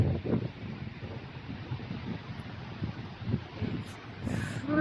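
Steady wind buffets the microphone with low, gusty rumbling throughout on the cliff top at Cromer, a faint voice briefly audible near the end.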